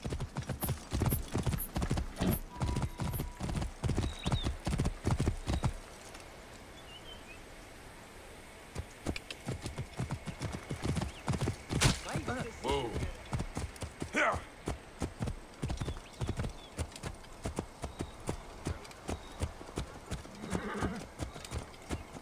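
A horse clip-clops at a lively gait in Assassin's Creed Origins, rapid hoof strikes that drop out briefly midway and then resume in a steady rhythm, with faint rustle and occasional bird sounds but no clear talk.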